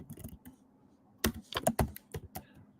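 Someone types SQL code on a computer keyboard during a MySQL and PostgreSQL databases lesson: close, crisp key clicks, a few sparse taps and then a quick irregular burst of keystrokes.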